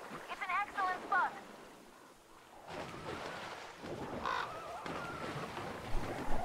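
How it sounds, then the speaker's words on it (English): Crow cawing in the post-apocalyptic shooter Metro Exodus, a few harsh calls early on, then wind and rain-like ambience with a distant rumble. "Hello, bird."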